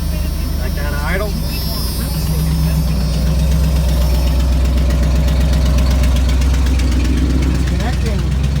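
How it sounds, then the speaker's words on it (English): Car engine settling back to a steady idle while hooked up with jumper cables, a continuous low rumbling hum throughout with a person speaking over it. "Back down to idle."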